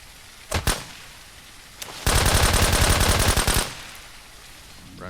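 Gunfire in the zombie-survival looter shooter SurrounDead: two quick shots, then a sustained, loud burst of rapid automatic fire lasting about a second and a half before stopping, with no talk over it.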